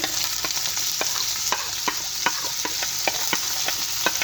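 Vegetables stirred into a sizzling beef stir fry in a hot pan with garlic and ginger, a steady close sizzle punctuated by regular scraping and clinking strokes of a spoon roughly twice per second, no talking.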